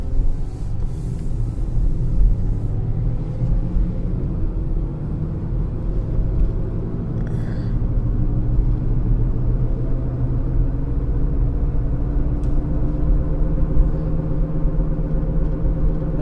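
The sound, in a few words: front left wheel bearing noise on 2015 Kia Sorento test drive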